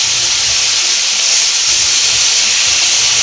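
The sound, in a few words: sirloin steak beef sizzling in a pan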